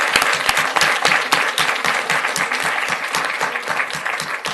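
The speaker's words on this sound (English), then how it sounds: "Let's give them a round of applause, please." Applause from a board meeting audience honoring a middle school Leadership Academy color guard, a dense steady clapping that holds strong for several seconds and eases slightly toward the end.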